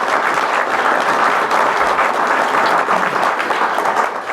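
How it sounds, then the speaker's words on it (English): Sustained applause from an audience at a tribal council meeting, steady and dense clapping that carries through the whole stretch at even loudness with no talk over it, easing off slightly at the very end. "Let's give them all a big round of applause."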